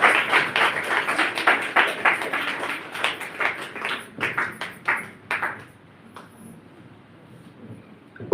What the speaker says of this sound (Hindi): तो सभी जोरदार तालियों से भैया के साथ स्वागत में साथ देंगे।